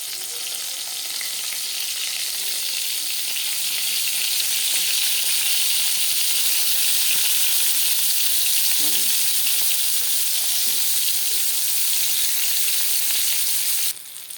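Brinjal slices frying in oil in a pan, a loud, steady, dense sizzle holding close and constant from start to finish, with a sudden drop at the very end.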